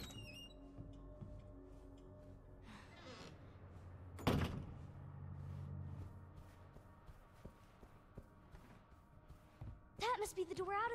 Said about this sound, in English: That must be the door out of here!